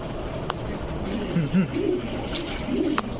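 Soft, low coos from caged male Chila pigeons in a shop, several short murmuring calls spread across a few seconds amid light background noise.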